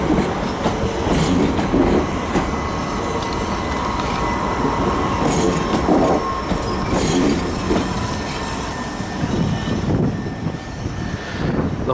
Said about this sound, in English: Just waiting for this train to draw past